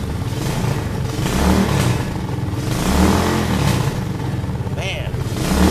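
A 2004 Suzuki LS650 carbureted single-cylinder cruiser engine, cold after starting, revs up and down in several loud, close swells over a steady thumping idle, with a brief higher-pitched whine near the end.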